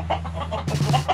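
A chicken being moved clucks up close, a quick run of short, soft clucks that grows slightly louder toward the end, with no talk.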